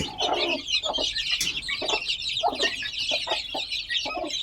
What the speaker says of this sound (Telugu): కోడి పిల్లలు చూడండి